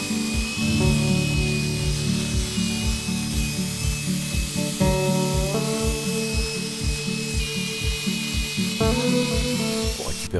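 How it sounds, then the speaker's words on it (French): A polishing machine works on BMW 535ia headlight lenses, whirring steadily with a fast, regular pulsing beat and small pitch shifts, loud and close with no talk. "pour obtenir un résultat parfait, il va falloir jouer de la polisseuse"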